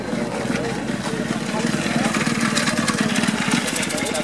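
A vintage collector's moped engine runs steadily with a fast, even putter, fairly loud and close, while people talk nearby.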